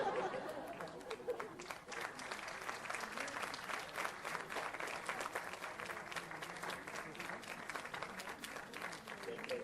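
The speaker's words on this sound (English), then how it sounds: "A round of applause, please, for Cyrus." Sustained applause from a concert audience at an animal-welfare fundraiser, dense steady clapping filling the whole stretch with faint crowd murmur beneath.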